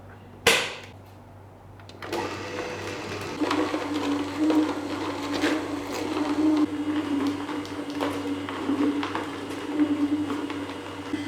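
A juicer presses beetroot for juice, starting with a sharp click and then settling into a continuous, close mechanical grinding hum with a low drone and irregular crunching.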